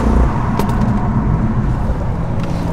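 A stage-two tuned BMW 240 (M140i-type hatch) pulling hard on the road, its engine a loud, steady rumbling drone close by and alone, with no talk.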